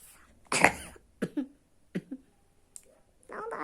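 A few close coughs, one strong burst followed by two or three softer ones, with brief breathy voice sounds between and at the end.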